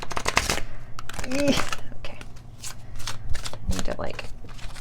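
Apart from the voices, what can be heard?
shuffling a stiff tarot card deck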